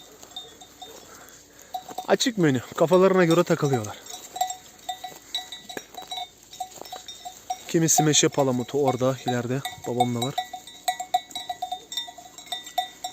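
Sheep with bells around their necks graze on oak acorns in a Turkish pasture, the bells clinking faintly and steadily in the background while someone talks over them.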